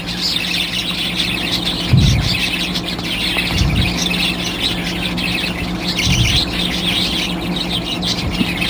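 Pet baby birds being hand-tamed chirp and squawk in a steady stream of high, close calls, with a few soft low thumps of handling beneath.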